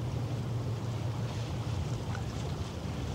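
A gust of wind blows at a waterfront where big ships pass at night, a loud, steady rushing buffet across the microphone.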